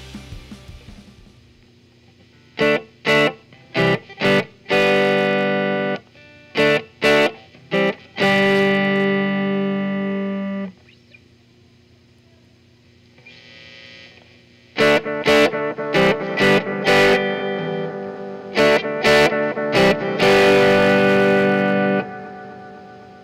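Electric guitar through a delay effect pedal with tap tempo, loud short chord stabs in bursts with distorted tone, each followed by repeating echoes trailing off, with no talking.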